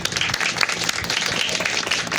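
Brief applause at a national rock festival in Camagüey, a short burst of crowd clapping with uneven, busy claps and a slightly choppy texture, lasting only a couple of seconds.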